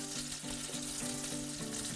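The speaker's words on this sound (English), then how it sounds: "As you can see, they're sizzling away." Battered peppers frying in hot oil, a dense, steady sizzle up close with a constant crackling hiss and no talk.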